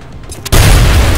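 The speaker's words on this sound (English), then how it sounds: "Grenade out." A grenade goes off in the video game XCOM: Enemy Unknown, a sudden loud boom about halfway through that sustains into a heavy roar after a quieter lead-in.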